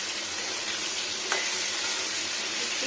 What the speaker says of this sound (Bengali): আলুটার সঙ্গে ভাজতে ভাজতে ছড়ে যাবে।